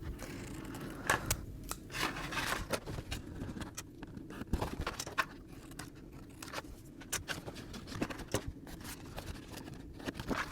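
Scissors cutting through card along a pencil line, a series of short crisp snips and scraping cuts spaced irregularly, close up and fairly quiet, no voices.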